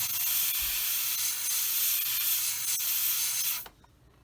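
Airbrush spraying paint onto a 1/48 Bf 109E model kit, a steady close hiss lasting several seconds before cutting off abruptly.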